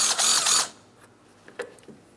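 A power tool zips loose a 10mm bolt on the bumper of a 2008–2016 Chrysler Town & Country in a short, loud burst, followed by faint clicks and small handling noises.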